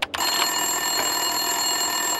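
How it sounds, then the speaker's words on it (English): Office desk telephone in the Max Payne 2 video game ringing steadily and loudly, a sustained electronic bell tone that starts almost immediately after a brief thump and continues unbroken with no voices. "Winterson's phone was ringing."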